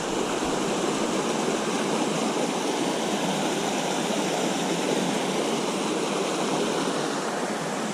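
A stream flows under a trail bridge on the West Prong Trail, giving a steady, broadband rush of water that stays loud and unbroken throughout, with no voices.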